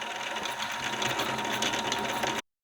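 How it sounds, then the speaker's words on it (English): A sewing machine winds a bobbin with a continuous fast, even whirring hum, close and clear, running alone before stopping abruptly. "winding my bobbin is so satisfying"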